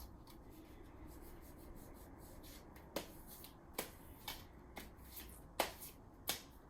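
Tarot cards being shuffled by hand, heard as soft papery riffles and rubbing with a few sharper snapping flicks near the end, quiet and close with no voices.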